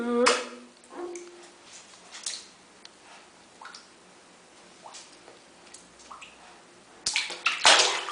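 A dog being bathed in a bathtub at home, with intermittent water splashing and sloshing close by, quieter in the middle and louder bursts near the end, with occasional faint voice sounds.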